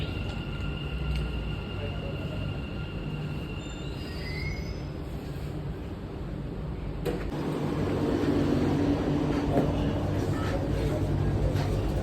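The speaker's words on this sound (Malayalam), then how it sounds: "അങ്ങനെ നമ്മൾ മെട്രോ വന്നിട്ടുണ്ട്" A Dubai Metro train rumbles nearby with a high, steady squeal of wheels, then a louder, rushing roar as it moves in, with faint voices.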